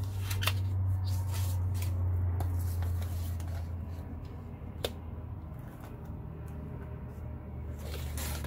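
Scissors trim paper for a cover with a series of crisp snips and rustles, set over a low steady hum, close and without speech.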